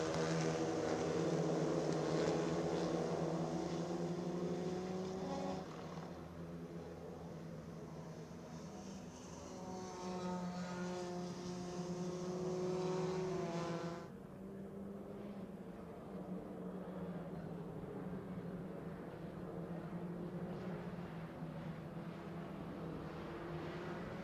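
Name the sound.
Clio Cup and Mazda Cup race cars driving at Brno circuit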